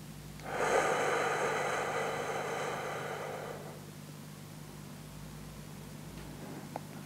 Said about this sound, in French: Je souffle l'air longuement.